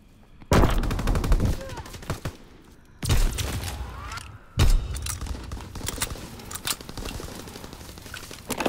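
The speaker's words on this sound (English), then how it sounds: "Fighter pilot ready for strafing run." Gunfire in the video game Squad, with three heavy bursts of rapid shots during a strafing run, each followed by sustained rattling fire and mechanical clatter, loud and close.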